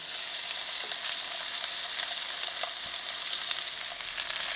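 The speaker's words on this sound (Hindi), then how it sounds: "अब ये जो रान हमारी बिल्कुल गली हुई है, इसको हमने इसमें फ्राई करना है, थोड़ी सी शाइन आ जाएगी।" Lamb leg frying in a little oil in a pan gives a steady, close, bright sizzle throughout, with occasional faint clicks of stirring and no talking.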